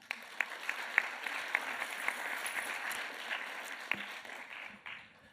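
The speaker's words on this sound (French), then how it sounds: "On peut l'applaudir." Applause from an audience at a talk on leisure and social participation, fairly soft and distant, with a few sharper claps standing out from a steady patter.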